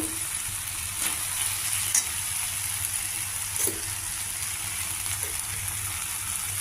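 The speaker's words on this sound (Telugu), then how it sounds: "ఇది పప్పు కొద్దిగా ఇలా వేయించుకోవాలి ఇందులో పోపులో మిక్స్ చేసి" Steady, close sizzling and hissing of soaked lentils frying in an oil tempering, with occasional soft stirring scrapes and no talking.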